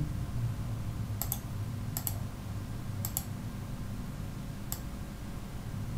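Computer keyboard key presses and clicks while working in CorelDraw X7, a few sharp clicks in small pairs spaced about a second apart, close but soft over a steady low room hum.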